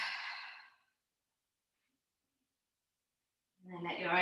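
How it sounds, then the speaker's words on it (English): A big sigh pushed out through an open mouth during yoga sun salutations: one soft, breathy exhale up front, then silence, then a voice begins speaking. "Open mouth and exhale, side out."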